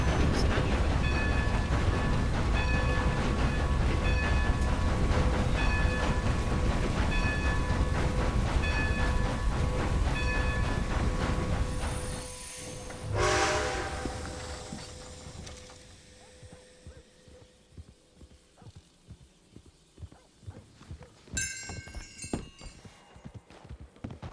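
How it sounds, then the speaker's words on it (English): Steam train in a Wild West roleplay video game rolling past with steady rhythmic clatter for about twelve seconds, then rumbling away as the sound fades, with lighter clanks and a brief hiss afterward. "Were you looking to ride the train today there, lass?"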